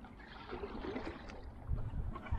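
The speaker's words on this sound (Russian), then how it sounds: "Ну, гребешь. Видишь, лодка едет." Oars pull a small boat through water on a river rafting trip, giving soft, low swishes and splashes under faint outdoor wind noise, with a couple of stronger strokes near the end.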